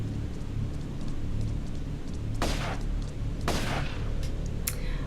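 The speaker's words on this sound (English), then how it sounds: "I'll go ahead and grab my shotgun." Shotgun blasts aimed at crocodiles in a Tomb Raider level editor game, two sharp loud bangs a second apart followed by a third, over a steady rain-like ambient hiss.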